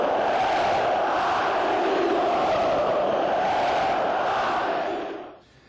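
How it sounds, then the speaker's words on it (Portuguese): A huge stadium crowd of Atlético Mineiro supporters chants in unison, a loud, sustained roar of massed voices that carries on for several seconds before fading out at the end. "as pessoas vão continuar gritando esse eu acredito"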